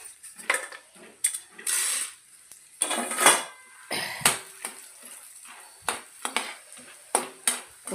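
Roasted gram dal (putnala pappu) is lightly dry-roasted in a pan, heard as a run of irregular metallic scrapes and clatters of a spoon stirring against the pan, with short pauses between strokes.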